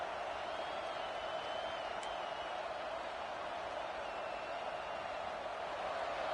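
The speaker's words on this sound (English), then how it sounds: "this crowd is fired up. Listen to this noise here." A college football stadium crowd gives off a dense, continuous roar, a steady wash of distant cheering and noise with no individual voices standing out.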